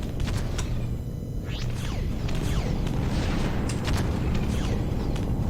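Gunfire and explosions in the space game Discovery Freelancer, a dense continuous rumble with repeated sharp zapping shots and sweeping blasts layered over it, loud and busy without speech.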